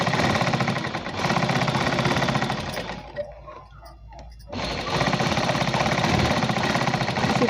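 Sewing machine stitching the rounded hem of a four-panel petticoat, running in a loud, steady mechanical rattle that stops for about a second and a half partway through, then resumes at full speed.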